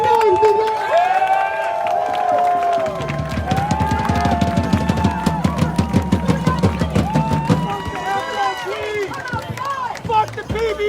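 A New York protest crowd cheering, whooping and shouting loudly, with rhythmic chanting and clapping, and voices calling out over it.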